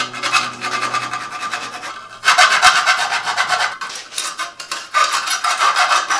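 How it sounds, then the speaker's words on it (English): A metal file rasps back and forth on the bolt tabs of trapezoid coffee table legs. The strokes are loud, close and rhythmic, falling in two bursts with a short pause between them. "I'm going to have to get in there with a file and file those free"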